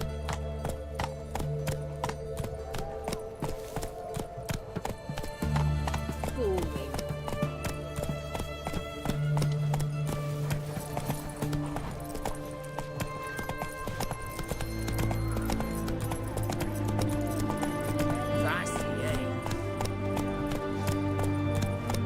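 Horse hooves gallop in The Witcher 3 video game, a fast steady clip-clop rhythm running throughout, with game music and occasional character voices over it.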